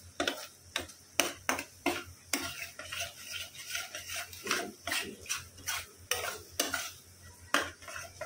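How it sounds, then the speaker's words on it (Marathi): Spice masala sautéed in a pan for restaurant-style shahi paneer, a spoon scraping and clinking rhythmically against the metal pan over a faint sizzle, close and steady. "छान मसाले आपण परतून घ्यायचे."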